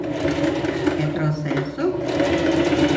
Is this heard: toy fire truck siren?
no